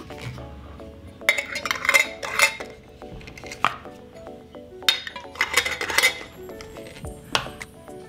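Glass jars of preserves are closed with clean metal lids, giving close, bright clinks and rattles in irregular bursts separated by short quiet gaps.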